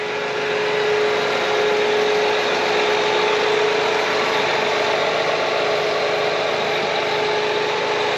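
An old, dirty tractor engine idles steadily nearby, a constant droning hum with a faint mechanical rattle throughout.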